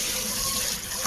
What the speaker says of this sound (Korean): 프라이팬을 멀티오나이즈를 설치하고 맹물로 설거지하는 내용입니다